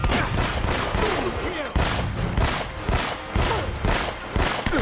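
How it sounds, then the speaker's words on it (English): Rapid gunfire from Uncharted: Drake's Fortune, repeated loud bursts and single shots cracking in quick succession, close and dominant, with a voice faintly present beneath. "I'm shooting around their heads instead of at their heads"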